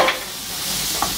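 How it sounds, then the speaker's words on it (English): Shallots sweat in hot olive oil in a pot for risotto, making a short, close, steady sizzle with a couple of light stirring clicks. "shallots are sweating off here nicely"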